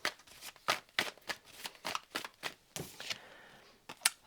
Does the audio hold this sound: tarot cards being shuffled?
yes